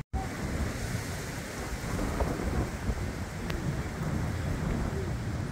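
Strong wind roars continuously in a close, blustery rush, steady and loud for several seconds with no talk over it.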